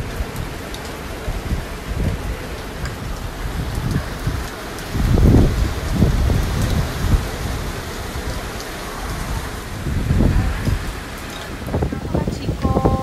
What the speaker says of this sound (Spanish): Se vino el aguacero y la inundación.